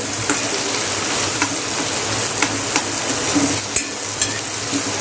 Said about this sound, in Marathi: कांद्याला पण चांगलं ब्राऊन कलर येईपर्यंत आपल्याला चांगलं फ्राय करून घ्यायचं आहे